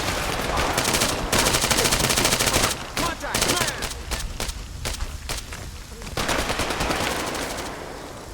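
Gunfire in the military shooter ArmA 3: dense, loud automatic bursts with short breaks, a continuous crackling barrage close by, while players talk over it.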